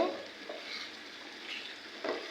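Tomato pieces frying in oil left from cooking beef, a soft continuous sizzle with light stirring, brief and fairly quiet.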